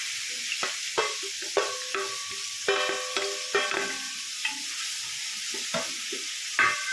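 Five medium sliced onions sizzle and fry in hot oil for a fish and prawn biryani, with steady sizzling punctuated by sharp scrapes and knocks of stirring, close and clear with no talk.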